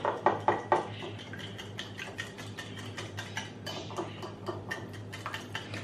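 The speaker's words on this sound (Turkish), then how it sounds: "Şimdi bunları iyice çırpıyorum" Eggs and oil being whisked in a bowl for a mussel börek filling: quick, steady clinking and tapping of a whisk against the bowl, loud at first and then settling into a lighter, continuous rhythm.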